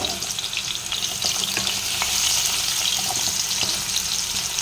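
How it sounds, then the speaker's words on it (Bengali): Pumpkin pieces frying in oil for a vegetarian Bengali chhakka, a continuous close sizzle with light crackle and occasional stirring clicks, steady throughout with no voices. "এবারে আমি কুমড়োগুলো ফ্রাই করে নেব।"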